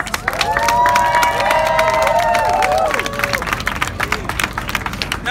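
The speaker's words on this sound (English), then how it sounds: "clap your hands and make some noise" Crowd clapping and cheering at a New York street show, with rhythmic hand claps and whoops and shouts rising over a lively outdoor audience, close and energetic, then loosening into scattered claps and chatter.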